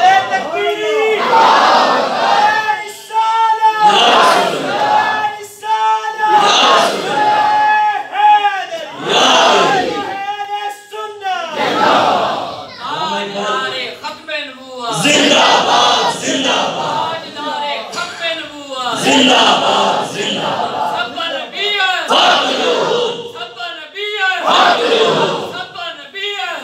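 A large crowd at a Khatm-e-Nabuwwat religious conference chants Allahu Akbar back in answer to a called slogan, loud, close, rhythmic shouted waves repeating again and again with short gaps between them.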